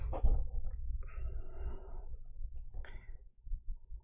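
A computer mouse button clicks restart while troubleshooting a Windows 11 blue screen automatic repair loop, giving brief sharp clicks close up against a quiet room with soft background hum.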